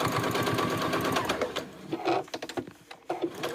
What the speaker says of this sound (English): I'm just going to back stitch a couple of times over that edge